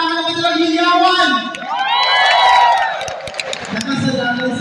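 A live crowd at an event cheers and shouts in a loud, dense wash of voices, with high whoops and screams rising in the middle. Only a little of it sounds like clapping.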